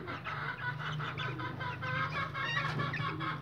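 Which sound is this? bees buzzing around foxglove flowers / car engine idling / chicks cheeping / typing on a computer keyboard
chicks cheeping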